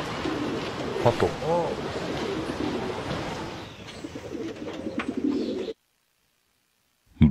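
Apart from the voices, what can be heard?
pigeon cooing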